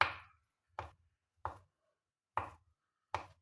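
A knife chops a boiled egg on a cutting board in a kitchen, giving five crisp, separate thuds spaced unevenly, each a short sharp knock that dies away quickly into near silence.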